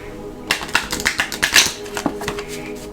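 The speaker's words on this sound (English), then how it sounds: "I'm going to shuffle these cards" Tarot cards being shuffled by hand during a horoscope reading, a quick run of crisp riffling flutters and taps close up, starting after a brief quiet moment and fading near the end.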